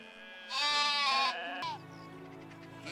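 Sheep in the farming game Medieval Dynasty bleat in two separate, fairly close, wavering calls, the first longer and louder, the second lower and steadier, with no talking over them.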